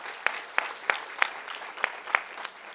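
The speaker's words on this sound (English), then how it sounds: "I'm glad you were clapping for the good news" An audience at a marketing presentation claps in a soft, steady patter, with a handful of sharper individual claps standing out at regular intervals throughout.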